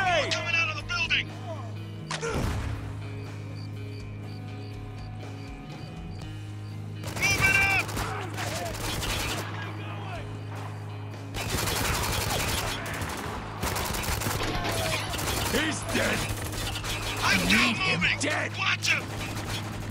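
Bursts of heavy machine gun fire crackle in a Spec Ops: The Line battle, rapid clusters of shots in several loud volleys over a steady low hum, with players talking throughout.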